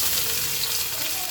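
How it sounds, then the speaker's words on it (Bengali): Chopped onion fries in hot mustard oil in a wok, a brief, even, close hiss and sizzle without any talk. "কড়াইয়ের মধ্যে আমি পেঁয়াজ কুচানোটা দিয়ে দেবো"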